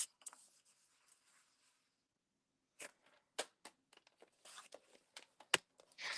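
Paper being cut into a 1 3/4 by 5 1/4 inch strip for a double gatefold card made with marbled paper, heard as faint, quiet scraping strokes and crisp ticks, with a near-silent pause before a run of sharper cuts.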